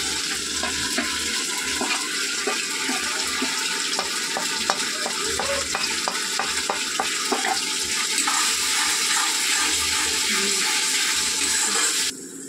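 Spices fry in a pan with a steady, dense sizzle that runs continuously and loud, with occasional stirring clicks and scrapes before cutting off near the end.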